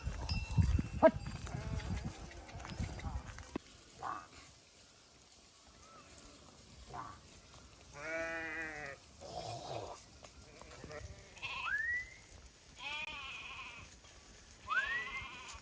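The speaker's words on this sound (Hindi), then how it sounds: "जंगल के बीच में से हमारी भेड़ बकरियां निकलती हुई" A herd of sheep and goats moves through a forest, giving repeated wavering bleats at moderate distance, several overlapping calls spread across the stretch, with faint rumbling and bits of other sound early on.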